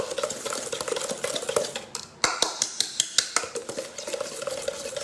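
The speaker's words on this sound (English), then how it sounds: "And whisk it again for 2 to 3 minutes till the sugar gets dissolved properly." A whisk beating castor sugar into a butter and vanilla batter in a bowl, with a steady rapid scraping that breaks into a run of quick, sharp clicks against the bowl's side. No talking is heard.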